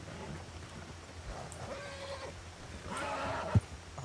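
Horse whinnying in Red Dead Redemption 2, a brief, moderately loud neigh over steady ambient game background noise, with a sharp thump near the end.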